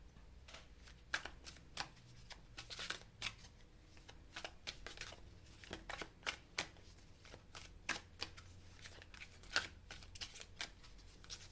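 Tarot cards being shuffled for a reading, a steady run of soft riffling flutters and crisp card snaps repeating close by with no voice over them.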